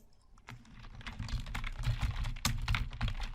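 Someone types steadily on a computer keyboard while writing in a Python 3 Jupyter Notebook, with quick, dense, overlapping keystrokes and a few louder key presses, close and alone.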